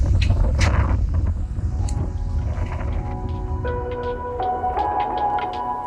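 Strong wind gusts buffet the microphone on a Sardinian coast with big waves, a loud, steady rumble and roar throughout, with faint tonal sounds and brief clicks in the background.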